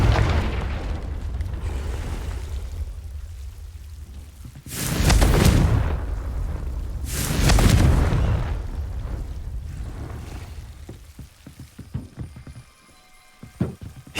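Two heavy, booming blasts from the Confringo fire spell in Hogwarts Legacy on PS5, about two seconds apart, each a deep rumbling burst over steady game ambience, with small clattering effects trailing afterward.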